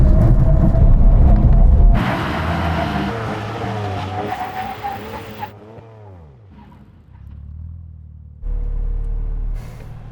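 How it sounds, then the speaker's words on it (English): A Manhart BMW M3 and M2 brake hard in a full emergency stop from 160 km/h: a loud rushing engine and wind roar gives way to descending tire and brake whine, then the engine noise rises again near the end. "And now we go have a brake test from 160 kilometers an hour. When we reach the line, full emergency stop."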